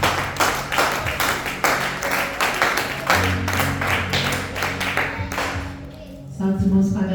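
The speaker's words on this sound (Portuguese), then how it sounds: "Vamos receber a pastora com as palmas bem fortes para Jesus Cristo." A church congregation applauds loudly at a worship service, with hard, rhythmic clapping and voices talking over it. The sound thins near the end.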